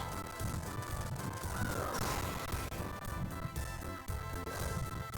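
Crows caw repeatedly in the forest stage of the video game Castlevania: Portrait of Ruin, their harsh calls sitting within dense, loud game music and effects.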